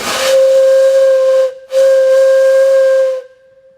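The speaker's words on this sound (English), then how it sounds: "3-inch Lockenheimer whistle. If you step back, I'll make it blow just for the heck of it." A 3-inch Lockenheimer steam whistle on a steam engine blows loud and close in two long steady blasts with a brief break between them, opening with a burst of hissing steam and cutting off cleanly at the end.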